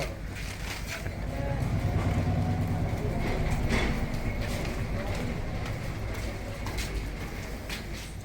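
Train on the Watawala–Nawalapitiya railway line, a steady broad rumble with faint wheel clatter that holds for the whole stretch, with voices and birds audible around it.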